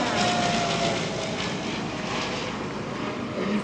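A C-147 aircraft makes a high-speed flyby at an air show, with a broad, steady engine roar and wind rush that stays loud throughout.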